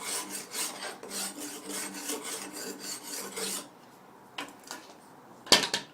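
A scraper blade rasps paint off a scooter's surface in quick repeated strokes for a few seconds. A pause follows, then a couple of sharper scrapes and a metallic clink near the end.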